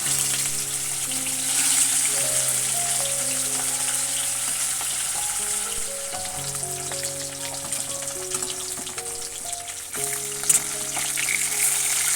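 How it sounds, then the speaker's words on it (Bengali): Fish frying in a pan gives a steady, close sizzle that runs the whole time with no break, set under tuneful background music. "এই যে এদিকে দেখো আমার যে যতটা মাছ ছিল সবটাই ভাজা হয়ে গেছে"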